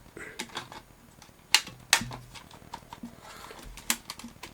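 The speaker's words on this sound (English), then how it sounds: "And just click it into place." A PS3 Slim base plate pressed into place during a Blu-ray drive swap, a series of close plastic clicks and taps with two sharp snaps, handled up close, with no talking.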